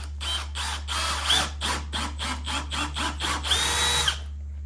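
A hand drill bores into material in short, loud bursts of about a dozen on-off pulses, then runs longer near the end, heard up close over a steady low hum with no talking.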